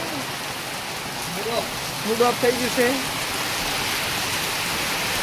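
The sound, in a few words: heavy rain falling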